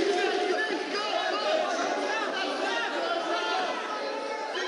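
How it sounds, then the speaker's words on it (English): A dense fight-arena crowd roars and chants steadily for Conor McGregor during his bout against Dave Hill, a continuous close wall of many voices with no pauses. "it is an answer to the SBG chants from the crowd"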